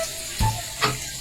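Onion and garlic sauté in a hot pan for a Filipino dish, a soft steady sizzle broken by two brief louder hissing bursts, close and without talk.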